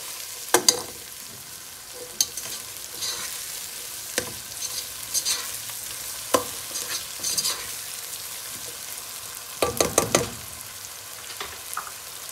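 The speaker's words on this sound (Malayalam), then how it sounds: "ഇനി തക്കാളി ഇട്, തക്കാളി ഇട്ടിട്ട് അസലായിട്ട് വഴറ്റുക." Tomatoes sizzle gently in a pan while being sautéed for a vegetable biryani, with scattered scraping stirs and clinks of a spoon over a soft, steady frying hiss; no one talks.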